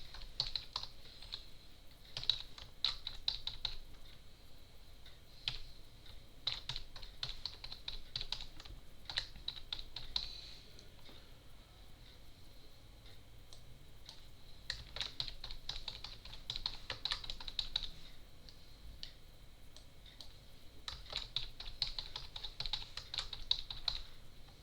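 Computer keyboard keys tapped in quick bursts with brief pauses while a password is typed, close and quiet, no voices.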